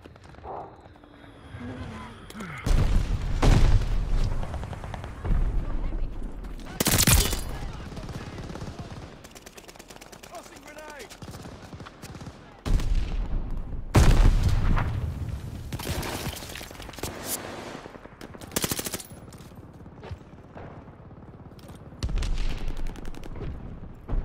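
Call of Duty: Vanguard multiplayer combat, with bursts of rapid gunfire and sharp grenade blasts that come loud and near and then fall quiet. Short in-game voice callouts are heard between the bursts.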